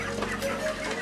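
Broiler chickens on a meat-poultry farm cluck in a dense continuous murmur, many birds close together at moderate volume, with no talking.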